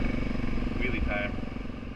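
A Suzuki DRZ motorcycle engine runs loud and close as the rider pulls a wheelie, one brief revving surge over a steady rumble.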